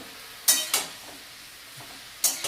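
Spinach being stirred in a pan makes a soft background sizzle, punctuated by three short bright scraping strokes of the spatula, two close together early and one near the end, with no voices.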